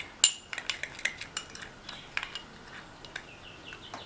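Chips being tossed with chili powder, salt and asafoetida in a bowl, giving light scattered clinks and rustling taps at an irregular pace, close and fairly quiet, with no talking.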